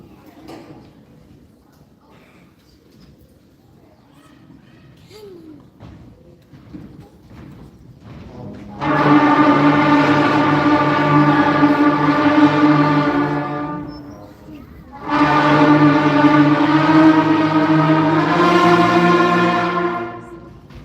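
A beginner school band plays together in a classroom in two loud sustained bursts of blended wind notes, separated by a short pause and preceded by quiet shuffling and room noise.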